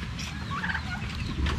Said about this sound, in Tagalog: At ang ating pabo.